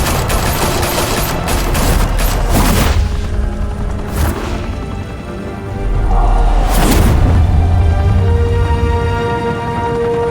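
Gunfire in the Batman Telltale Series game, with dense bursts of automatic fire and heavy booms, loud and close, rising and falling over roughly ten seconds.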